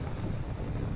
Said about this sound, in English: Windy day, choppy out here.